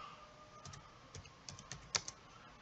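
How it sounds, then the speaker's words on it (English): A search is typed on a computer keyboard, a quiet run of close, light key clicks in an uneven rhythm with one sharper tap near the end. "we're going to type in Elton John in the search menu"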